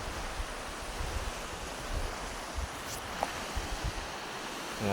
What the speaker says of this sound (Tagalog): Ingay ng dagat.